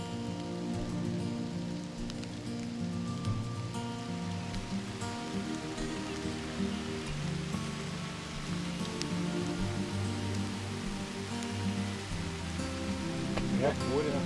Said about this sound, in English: we're catching the edge of a little bit of rain